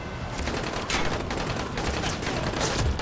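Rapid enemy gunfire in Dying Light: The Following, a dense, continuous burst of shots sounding loud and close for the whole stretch.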